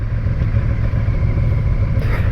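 A KTM 1290 motorcycle ridden on the road gives a steady, loud low engine rumble with wind noise, constant throughout with no talk over it.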